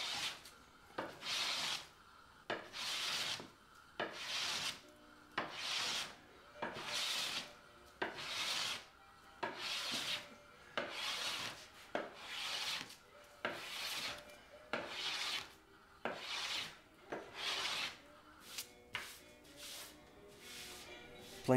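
Long steady strokes of a hand plane from about 1910 shaving wood for a blanket chest, each pass a rasping swish followed by a short pause, repeated about fifteen times at an even pace.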